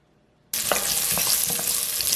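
After brief silence, garlic hits hot olive oil in a pot and a steady, loud sizzle starts at once, with small crackles and pops running through it to the end.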